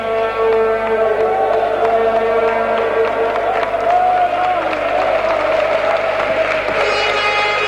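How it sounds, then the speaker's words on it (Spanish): Applause from both teams and the crowd after a Spanish football match, a continuous wash of clapping and crowd noise from a stadium, steady throughout, with a commentator talking over it. "el aplauso de los dos equipos, el aplauso del público"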